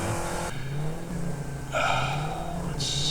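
A vehicle engine in the Satisfactory factory game drones steadily and revs up, its tone rising and shifting over a constant low rumble, close and fairly loud with no voices.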